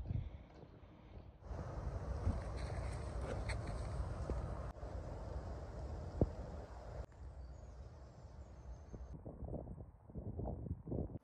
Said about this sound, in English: I'm recording this bit after the fact because the wind noise was just crazy